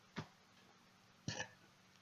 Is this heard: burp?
yes